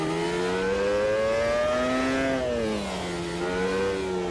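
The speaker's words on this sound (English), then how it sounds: "This is what F1 used to sound like back when I was growing up." A 2005-era ten-cylinder Formula 1 car engine in a sim racing game, a loud high-pitched sustained wail that rises, dips as the car slows, then climbs again.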